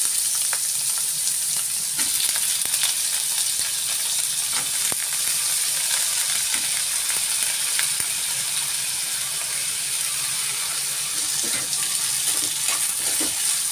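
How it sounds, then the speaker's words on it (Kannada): Chopped brinjal frying in oil in a pan, a continuous close sizzle with occasional scrapes and clinks of stirring, no talking heard. "ಇದು ಸ್ವಲ್ಪ ಮೆತ್ತಗಾಗೋ ತನಕ ಹುರ್ಕೊಳ್ಳೋಣ"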